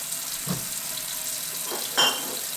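Tap water runs into a stoppered sink or canner for waterbath canning tomatillo salsa, a soft continuous hiss and gurgle at moderate level, marked by a couple of brief splashing clinks, with no speech.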